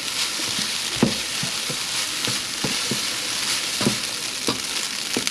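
Day-old rice stir-fried in a hot pan for chicken fried rice: a steady sizzle punctuated by regular scraping knocks of a spatula against the pan, close and fairly loud.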